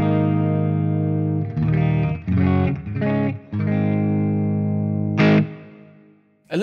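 An electric guitar plays through a Line 6 POD GO without a Timmy pedal, giving a mildly broken-up tone: sustained chords with a few quick strummed bursts, ringing out and fading at the end.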